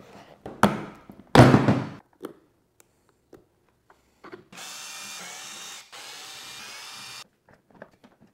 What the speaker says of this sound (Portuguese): para desmontar, estou utilizando minha parafusadeira de impacto da Cress